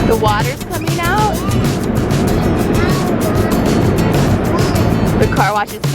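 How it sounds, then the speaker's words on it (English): Car wash jets spraying water over a car, a dense continuous hiss and drumming of water close by, with voices chattering over it at the start and end. "The water's coming out."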